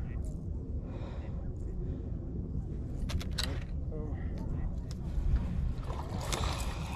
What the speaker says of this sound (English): All right, let's just row over to